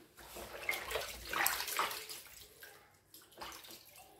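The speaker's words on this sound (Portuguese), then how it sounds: "vou tirar na água, vou lavar a minha carne para meter na panela" Smoked meat being washed in water before cooking, with soft splashing and running water sloshing in uneven bursts, fairly quiet and close.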